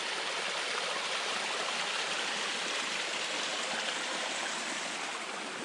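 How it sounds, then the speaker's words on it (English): Water from a mountain stream pours down a rock crevice, a steady, dense rushing and splashing heard up close and alone. "So we have water coming right down in that crevice."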